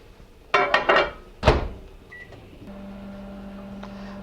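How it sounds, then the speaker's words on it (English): Microwave oven melting butter for an oysters au gratin sabayon: a door thunks shut, a brief beep, then the oven starts with a steady low hum that carries on. "melt the butter in the microwave"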